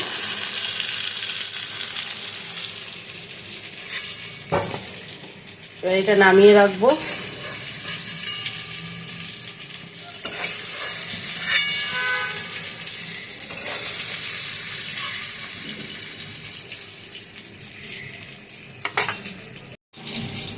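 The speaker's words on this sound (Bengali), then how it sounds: "বেগুন আর আলুটা একটু ভালো করে ভাজতে হবে" Potato and eggplant pieces fry in a pan while being stirred; loud crackling sizzle with bursts of scraping, and a short spoken phrase partway through.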